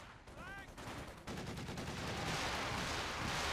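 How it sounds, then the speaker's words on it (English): Rounds of gunfire in the wartime strategy game Company of Heroes 2, a dense rattling stream of shots under steady battlefield noise that swells louder after the first second. "And more rounds go off to the east."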